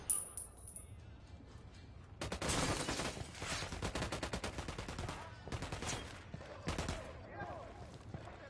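Bursts of rapid automatic gunfire in a video game, loud and dense from about two seconds on, with sharp repeated shots and brief pauses, plus faint radio-style voices around it.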